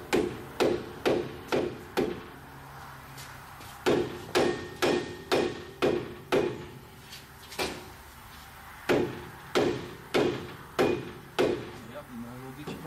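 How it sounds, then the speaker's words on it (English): A soft-face hammer strikes repeatedly in a workshop during a G56 Dodge transmission and dual-disc clutch install, landing close, sharp blows in quick bursts of four or five with short pauses between groups. "Soft face hammer."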